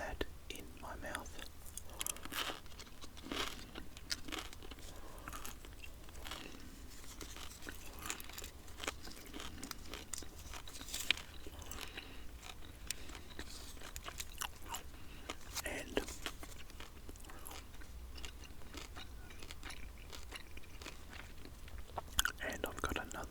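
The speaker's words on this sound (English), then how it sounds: "push out a piece of pepper flavoured PK chewing gum, and I'll pop that in my mouth." Pepper-flavoured PK chewing gum chewed close to the microphone, soft wet clicks and crunchy bites repeating steadily under quiet whispering, a faint intimate mouth sound throughout.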